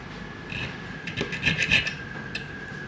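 A key blank is filed by hand to cut a new key for a lock with a changed pin combination, with a handful of short, close, quiet rasping strokes in a loose rhythm.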